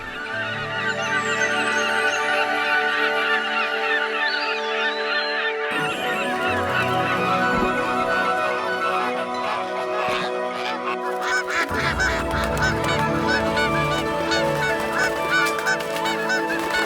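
Birds call repeatedly, with goose-like honks and other squawks and chirps layered over a sustained musical backdrop, loud and continuous for the whole stretch.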